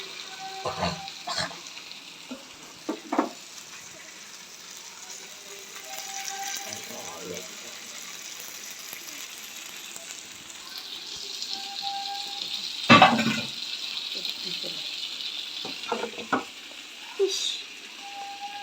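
Vaazhai fish frying in oil gives off a soft, continuous sizzle, with occasional clinks and stirring knocks from utensils and brief water sounds in a home kitchen.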